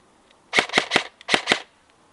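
A Krytac airsoft gun fitted with a foam-filled silencer fires in two quick bursts, three muffled snaps and then two more, close by and fairly soft, with no talking.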